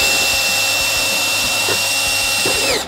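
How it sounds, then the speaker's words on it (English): A drill bit cutting through a metal panel in a 2024 Mustang with a Whipple supercharger, giving a loud, steady, high-pitched whine close by that holds nearly constant and then drops away at the end. "You can just cut right through with the bit as well."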